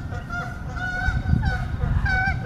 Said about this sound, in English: Our geese friends are having fun.